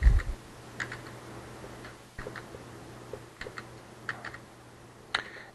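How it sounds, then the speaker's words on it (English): Someone types on a computer keyboard in short bursts of light, close key clicks with brief pauses, ending in a few sharper taps. "I then can go in and type in my name"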